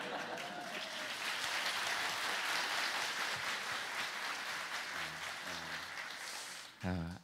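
Audience applause at a Korean talk-show style interview, a steady dense wash of clapping sustained for several seconds, moderately distant, fading near the end as a voice begins speaking.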